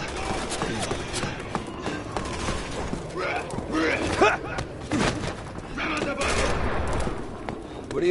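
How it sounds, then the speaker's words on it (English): Bursts of gunfire in the game Resident Evil 6 rattle in repeated volleys of shots, mixed with thumps and clatter, while voices talk over the action. "We're gonna have to shoot our way out."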